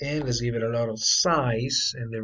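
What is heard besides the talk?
No everyday noise stands out behind the speech.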